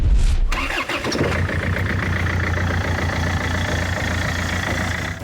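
A battle-damaged military vehicle near Bakhmut cranks and starts, its engine catching after a short burst and then settling into a loud, steady idle rumble close by.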